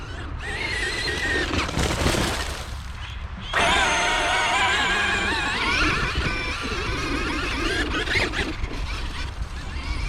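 A Traxxas 8S pro-scale RC sand car drives hard, its electric motor whining loud and close with pitch swooping up and down as it accelerates and brakes.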